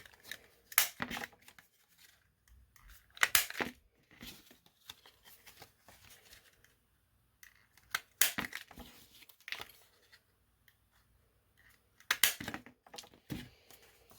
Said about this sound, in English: you're just going to take your circle cutter and you're going to cut the little holes in